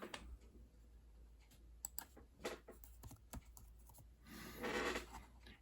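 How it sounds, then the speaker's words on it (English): Quiet, close keystrokes on a computer keyboard type out a short word, a brief irregular patter of clicks ending in a slightly longer press, with no voices. "I want to type in the word heart"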